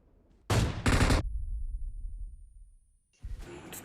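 Gunfire in a mobile battle-royale shooter match, two sharp close shotgun-like blasts in quick succession, followed by quiet and a fainter burst of noise near the end.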